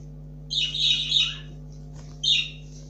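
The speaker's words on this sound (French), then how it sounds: "il y a mes oiseaux derrière, ils font un peu de bruit." Pet birds squawking indoors behind someone assembling a LEGO car set, two bursts of shrill chirping calls over a steady low electrical hum.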